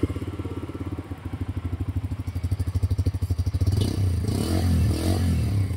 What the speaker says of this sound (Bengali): আমি একবার বাইকটাকে অন করি তারপর তোমাদেরকে দেখাচ্ছি।